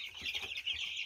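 Chickens from a second batch of backyard birds cluck softly and steadily, a low murmur of several hens with no talking.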